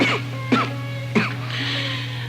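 An ailing man coughs three times, short harsh near bursts separated by pauses, over a steady low hum.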